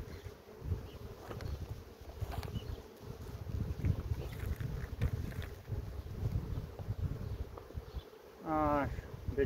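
A steady, close buzzing of honey bees swarming around a hive in an apiary, with light wind noise and a brief louder whine near the end.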